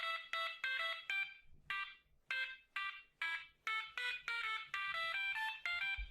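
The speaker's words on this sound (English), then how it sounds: "Someone hacked the fire alarm by playing the Super Mario Bros. Theme." A fire alarm in the video game Butterfly Soup chimes out the Super Mario Bros. theme as a series of bright, clipped electronic beeps in a quick melodic rhythm, loud and alone.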